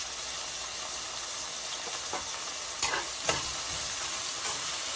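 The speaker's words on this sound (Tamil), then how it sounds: "வெங்காயம் நல்லா கோல்டன் ப்ரௌனா வதக்கிக்கலாம்." Onions fry in a pan with a little salt for vegetable biryani. A steady, dense sizzle runs throughout, with a couple of soft scraping stirs partway through.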